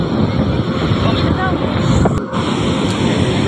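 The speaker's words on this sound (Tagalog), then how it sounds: "Lakas ng alon." Strong waves on the sea at Infanta roll in beside a beachside cottage, with heavy wind buffeting the microphone in a loud, continuous roar and surging rush of water close by.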